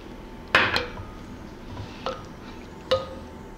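A utensil knocks against a pan while shrimp are mixed with teriyaki and oyster sauce for Chinese noodles, giving a few separate clinks and scrapes spaced over a few seconds, fairly close.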